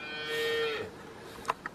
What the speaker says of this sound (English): So the goats are going home for the night.